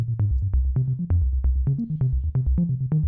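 Sine wave on a modular synth passed through a low pass gate, a looping pattern of short plucky bass notes with quick decays, about four per second, steady and close.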